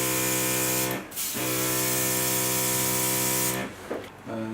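A RIBO HC23 mini airbrush compressor runs with a 2 cc cup airbrush gun, giving a steady close motor hum with harmonic whine, briefly dipping twice as spraying pauses.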